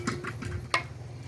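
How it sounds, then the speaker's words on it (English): Boiled beans being added to a cooking pot over a fire in an African village, with soft stirring and scraping against the pot and one sharper clink of utensil on metal, close and fairly quiet. "Then we add beans"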